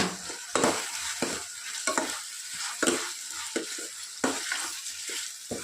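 Softened tomatoes being mashed and stirred as they fry for a village-style chicken curry, with a steady sizzle under repeated scraping spoon strokes against the pan at a regular rhythm, close and clear.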